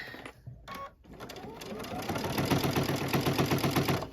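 A sewing machine stitches a snow globe wall hanging, starting with a few short stops and single stitches, then running into a steady, fast mechanical hum up close.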